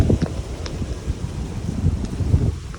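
Strong wind blowing across an open, quiet square overlooking a town near Chefchaouen, a steady broadband rush with buffeting gusts against the microphone, no voices.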